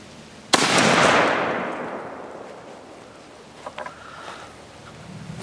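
A single loud shotgun blast from a Winchester Longbeard XR firing a turkey load outdoors, with a long, rolling echo that slowly fades, followed by a few faint clicks.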